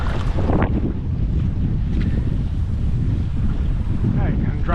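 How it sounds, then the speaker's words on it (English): Kayak paddling at sea three miles offshore off Fiji in strong wind, with heavy wind buffeting on the microphone, water sloshing and a few paddle splashes. "do a little bit of work and paddle in."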